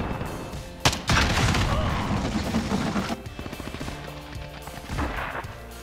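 Gunfire in the video game Modern Warfare: a loud burst of shots opens, followed by sustained crackling fire and scattered bangs that fade into a quieter stretch before another shot near the end.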